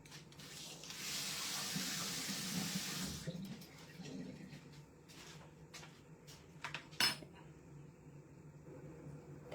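Kitchen tap water running into a sink while food is rinsed, a strong steady hiss for about three seconds, then quieter trickling and clatter with a few sharp knocks near the end.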